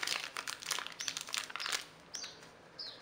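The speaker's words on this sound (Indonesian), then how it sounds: "Penutupnya dengan menggunakan plastik" Thin plastic sheeting crinkles and rustles in quick irregular bursts as it is stretched over oyster mushroom growing media during cultivation, then thins out, with a few faint chirp-like squeaks.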